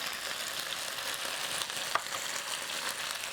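Balinese bumbu genep spice paste fries in a pan with lime leaf, salam leaf and cinnamon stick, a steady close sizzle with one brief clink of stirring partway through.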